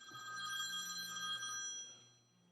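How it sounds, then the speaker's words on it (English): A mobile phone rings with a bright, repeating electronic tone, fairly close, for about two seconds before fading, with no voices. "Sorry, my phone's ringing."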